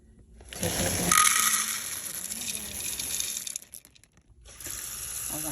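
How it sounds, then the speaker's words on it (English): Water gushes and splashes into a bowl of dried pinto beans in two bursts, close and fairly loud, with a short pause between pours. "you're going to cover them with water"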